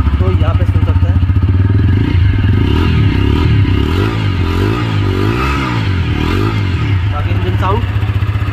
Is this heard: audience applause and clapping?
no